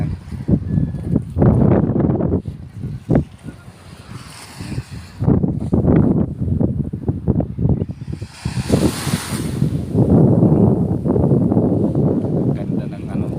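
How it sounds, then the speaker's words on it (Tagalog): Strong wind at a beach by the sea buffets the microphone in loud, rumbling gusts, with breaking waves in the background and people talking intermittently over it. "Ang lakas ng hangin."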